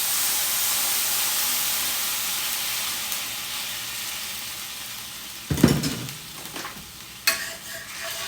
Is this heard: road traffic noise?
no